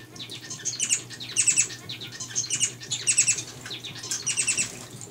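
Spice finches in a large indoor flight aviary give short, high chirping calls in repeated bursts of three or four notes, fairly close, over a low background hum.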